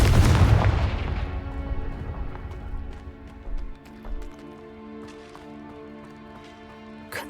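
A Confringo explosion spell goes off in a Harry Potter video game: a loud, booming blast with a heavy low rumble that decays over several seconds, followed by faint scattered game sounds and a soft thump near the end.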